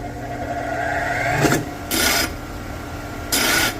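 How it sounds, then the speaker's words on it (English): Burrs are worked off connecting rod caps in three short, dry rasping strokes. A steady shop hum continues underneath. "I'm just trying to remove any burrs that are on here so it'll sit straight in the cap cutter."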